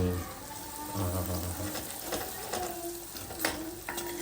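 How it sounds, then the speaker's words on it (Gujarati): A pot of curry with cumin seeds and salt being stirred, giving soft scraping and occasional clinks of a spoon against metal over a steady low background hum, with a brief sharper knock near the end. "હવે સરસ મિક્સ કરી લો."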